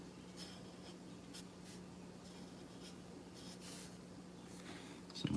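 Ohuhu alcohol markers color on paper in close, faint strokes, with soft scratchy swipes repeating irregularly over a steady low hum and no talking.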